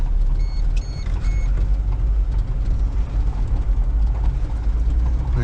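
A car drives toward a river with a loud, steady engine drone and road rumble heard from inside the cabin, continuous and unbroken.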